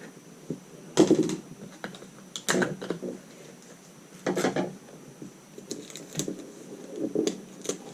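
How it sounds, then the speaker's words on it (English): Tape is pulled and pressed down on a paper pattern piece for a drafting job, heard as scattered short crackles and taps, a few louder bursts among quieter rustles, close and without speech. "Tape down my last piece."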